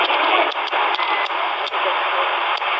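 Tendak W-215 portable AM FM radio giving out a loud, steady band of static hiss broken by brief dropouts and faint whistling birdie tones, with no voice over it.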